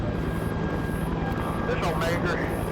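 A helicopter's rotor throbs steadily in a video game military operation, a constant mid-level drone with a person talking over it.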